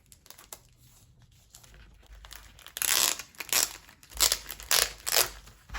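Close crinkling and tearing of a plastic bag being opened, with soft rustles building into loud, sharp crackly bursts of crumpling plastic, no talking.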